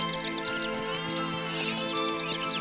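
Goat kids from a children's animated telling of the wolf and the seven little goats bleat in high, wavering calls that overlap steadily for about three seconds, close and fairly loud, with no talking.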